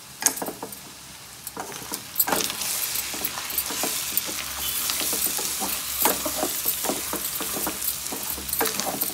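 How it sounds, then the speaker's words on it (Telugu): Chicken pieces frying in a pan with chili powder, ginger garlic paste and salt: a steady, close sizzle with repeated scraping and clinking as a spoon stirs the pan. "ఇప్పుడే అన్ని కారం, అల్లం వెల్లుల్లి పేస్టు, ఉప్పు అన్నీ ఫ్రై చేసుకున్నా."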